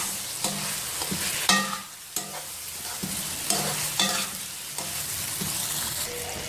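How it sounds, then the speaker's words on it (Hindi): Sliced tomato rounds stirred into a sizzling dahi aloo biryani masala in a pan, with repeated scraping strokes of a spoon over steady frying crackle and no talk. "और अब मैं इसमें शामिल करूँगी 2 दरमियाने गोल स्लाइस में कटे हुए टमाटर, इसको करूँगी मिक्स"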